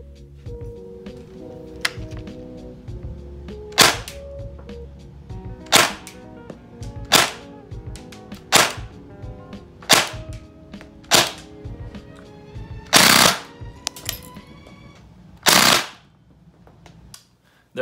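A JG G36 airsoft rifle fires about nine sharp, loud shots at a steady, moderate pace, alone over a low mechanical hum, with one or two bursts that run slightly longer.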